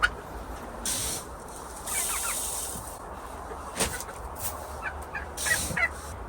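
Hens cluck and call in short bursts, with several sharp squawks and scattered rustling nearby inside a hen house.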